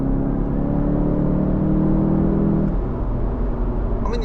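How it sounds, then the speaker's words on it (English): A BMW G60 530e hybrid's four-cylinder engine accelerates in sport mode, a loud steady drone that climbs in pitch, then drops back to a duller rumble of road and cabin noise, with no talking. "it does make a sound like a typical 4-cylinder sound"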